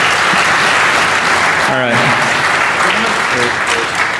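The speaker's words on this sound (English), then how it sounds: "How about a round of applause for these guys?" An audience at a DEF CON security conference talk applauds first-time speakers with loud, continuous clapping that fills the whole stretch, while a voice briefly speaks over it.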